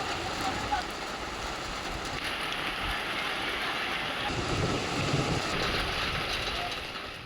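Stormy wind with unseasonal rain over farmland in the Vairag area of Solapur, a steady broadband roar of gusts and rainfall filling the whole stretch, loud and continuous with no voices.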